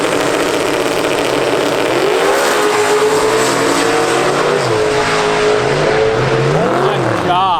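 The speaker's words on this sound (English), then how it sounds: "that blue Mustang was so fast" A blue New Edge Mustang tears down a drag strip, its engine roaring loud and steady as it climbs through the gears, with shifting pitch sweeps and a constant wash of crowd and track noise.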